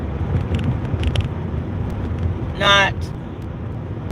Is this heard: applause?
no